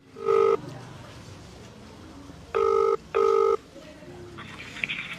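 An ordinary telephone ringing for an incoming call, with three loud, clear electronic ring bursts spaced a few seconds apart, heard alone before the call is picked up.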